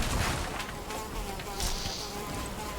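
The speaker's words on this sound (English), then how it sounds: "Oh, there's a mosquito in here." A mosquito whines and buzzes indoors in the game Valheim, a thin wavering drone that swells and fades as it moves close, heard alone over a low ambient background.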